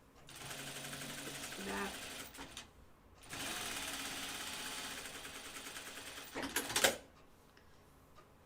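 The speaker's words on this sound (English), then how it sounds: "I'm going to top stitch this" A sewing machine topstitching a Kelly Anorak runs in steady, close bursts with a rapid rhythmic whirr, pausing between runs, while a person talks briefly.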